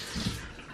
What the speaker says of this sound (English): Managed to actually fill up the kettle with one hand